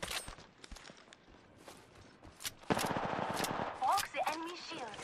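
Apex Legends season 12 gunfire on Nintendo Switch: scattered single shots, then a fast automatic burst that sounds close and loud, with voices speaking over the game.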